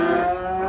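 Beef cattle on a ranch give a single long, loud, close moo that holds steady for under a second, with no other sounds around it.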